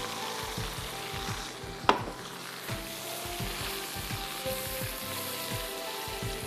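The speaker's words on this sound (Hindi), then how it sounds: "मिक्स कीजिए और पका लीजिए मक्खन और तेल में।" Food frying in a mix of butter and oil, a steady soft sizzle with scattered spatters and a few stirring scrapes, one sharper clatter near the start, heard close up with no talking.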